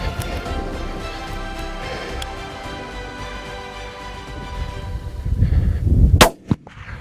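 A loud rifle shot fired at a pronghorn antelope during a hunt cracks out near the end, after a stretch of rumbling outdoor noise, followed by a brief decaying echo.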